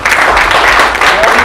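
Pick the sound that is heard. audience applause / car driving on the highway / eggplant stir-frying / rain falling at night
audience applause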